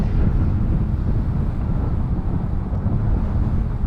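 Strong wind blusters across the microphone at an outdoor RC flying field where a Dynam AT-6 Texan model plane is being flown, a dense, steady low roar filling the whole stretch without speech.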